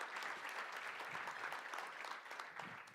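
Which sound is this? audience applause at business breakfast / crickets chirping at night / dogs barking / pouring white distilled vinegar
audience applause at business breakfast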